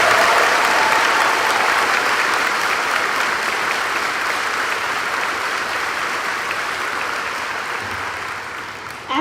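A high school graduation audience applauds for a soldier, with dense, sustained clapping from a large crowd that slowly fades over several seconds.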